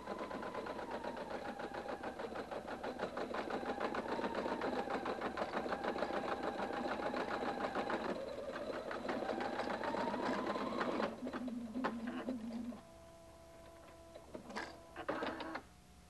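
A Husqvarna Viking Designer 1 embroidery sewing machine stitches out a tea cozy design, its steady rapid needle clatter running loud and continuous for about eleven seconds before dropping to quieter intermittent whirs and clicks.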